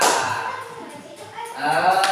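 Classmates in a school classroom give a short round of hand clapping during a coding and artificial intelligence lesson, a thin patter of claps mixed with voices talking nearby.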